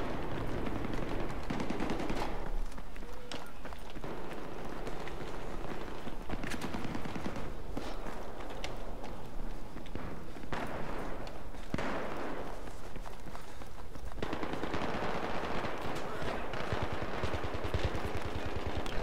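Sustained gunfire in the video game Battlefield 3 during close-quarters combat, dense bursts of shots layered with other battle noise running loud and continuous throughout.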